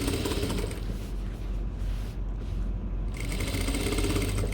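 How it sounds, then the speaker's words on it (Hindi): A sewing machine runs steadily while top stitching cargo pants, a close, fast mechanical whir with a rapid needle chatter. A brief slowdown comes midway before it picks back up to full speed. "टॉप स्टिच देख रहे हो कैसे आ रहा है"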